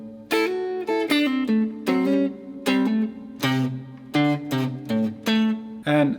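Electric guitar plays a solo riff, a quick run of plucked and bent notes with ringing sustain, loud and close, with no voices.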